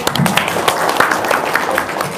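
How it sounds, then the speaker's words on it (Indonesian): An indoor audience claps in steady, scattered applause at a talk-show style gathering, close and fairly loud, with no speech over it. "nanya lagi, tepuk tangan dulu."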